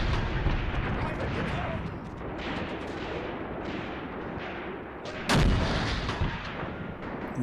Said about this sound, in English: Hopefully we'll be able to deal with that with the light howitzers